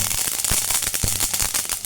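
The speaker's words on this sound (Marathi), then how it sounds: "आपण आता थोडासा तीळ भाजून घेऊया आपण." Sesame seeds roast in a pan with rapid, irregular crackling and popping, close and fairly loud over a dense background hiss.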